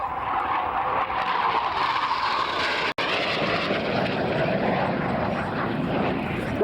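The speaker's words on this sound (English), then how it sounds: "There we are, bringing the aircraft through inverted." A jet aircraft in RAF 208 Squadron show trim roars steadily overhead while flying inverted at Shoreham Airshow, a loud, continuous broadband rush with a brief dropout midway.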